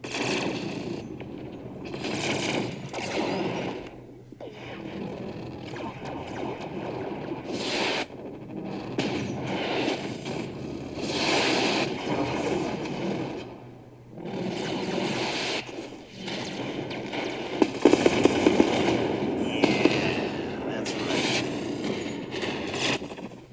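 A missile volley in the space strategy game Endless Space 2: rumbling waves of launches and explosions rolling in long swells, with a cluster of sharp pops later, steady and moderately loud.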